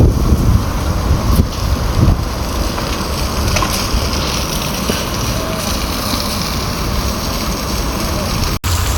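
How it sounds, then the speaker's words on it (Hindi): Strong evening wind roars outdoors in Dushanbe, Tajikistan, a loud continuous broadband rush buffeting the microphone for the whole stretch, with no talking. "बहुत ज़बरदस्त हवा चल रही है"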